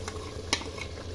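A curry with yogurt sizzles faintly in a pan while being stirred, a soft continuous frying hiss broken by one brief scrape of the spoon.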